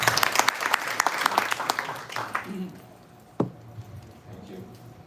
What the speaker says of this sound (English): A round of applause for Father Hinan,